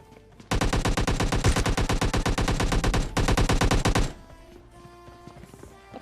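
Rapid automatic gunfire in the PUBG Mobile video game, a loud, close burst of evenly spaced shots lasting about three and a half seconds with a brief break in the middle, then quieter game ambience.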